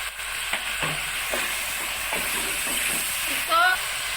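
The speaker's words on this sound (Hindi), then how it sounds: "इसको फ्राई करेंगे इसको अच्छे तरीके से।" Chicken jalfrezi frying with a little salt in a pan gives a steady, even hiss. Brief stirring knocks come through the sizzle, and a short squeaky scrape rises near the end.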